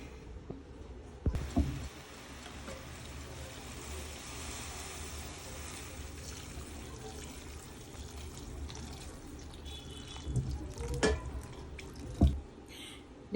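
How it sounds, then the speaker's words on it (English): Water trickles and drips steadily into a sink or strainer as boiled beans are drained, with a few louder splashes and clatters near the start and toward the end. "I strain off the dirty water, then replace that water with a new one."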